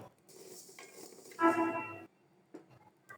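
Food frying in a pan in a home kitchen, a soft sizzle with stirring and clinks of utensil against the pan, a brief louder scrape in the middle, quiet overall.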